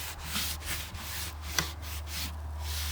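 Soft, steady rubbing of a cloth burnishing a wood surface in a community hall, faint swishing strokes repeating close by over a low hum, with no talking.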